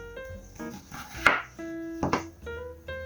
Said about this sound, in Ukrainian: І ось так його буду різати пластинами